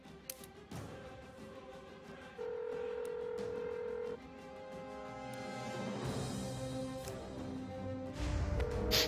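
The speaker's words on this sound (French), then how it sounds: "Le téléphone sonne." Telephone ringing in the South Park: The Fractured But Whole video game, steady electronic tones and beeps layered over game music and effects at moderate level, without clear talk.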